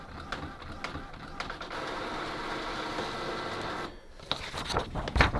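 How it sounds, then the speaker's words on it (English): An Epson EcoTank three-in-one printer runs a nozzle check print, with a faint, steady mechanical whir and scattered clicks of the print head and paper feed, ending in a few louder knocks. "so it's printing out again now. I presume it's going to print out another nozzle check."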